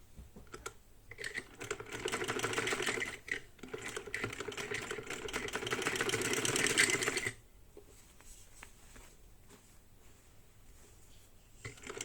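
A sewing machine stitches over a collar on a garment, a close, steady rattling hum that runs for about six seconds with brief pauses, then stops and leaves faint handling sounds.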